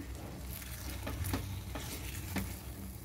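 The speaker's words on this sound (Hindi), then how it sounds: "याला मिक्स करून घ्यायचं छान।" Ghee and cardamom powder being stirred into semolina shira in a pan: a soft, steady sizzle with a few faint scraping strokes, close and quiet, with no voices.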